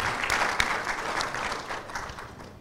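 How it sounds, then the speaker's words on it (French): An audience at a film club screening applauds an actress, a moderate, continuous patter of clapping heard at some distance throughout. "Applaudissez pour Douala Toto, Marthe Douala Toto."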